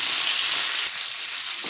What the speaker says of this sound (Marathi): इकडे आपल्याला तेलामधली मिरची अशी खालीवरती करून घ्यायची आहे.